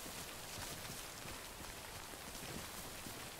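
Steady rain falls in the video game Death Stranding, a dense even patter on surfaces with no breaks, quiet and constant.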